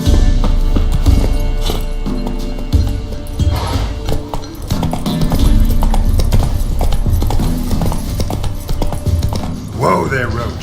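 Hoofbeats of Roach, the horse in The Witcher 3, pound out a steady clip-clop gallop at close range, mixed with game music and ambient sound, with a voice speaking over it and a brief whinny-like rise near the end.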